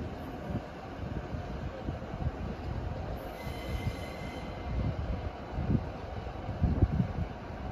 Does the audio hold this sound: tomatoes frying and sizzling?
no